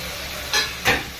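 Boiled potato and yam pieces go into spiced hot oil, two quick sizzling bursts in close succession over a low steady fry.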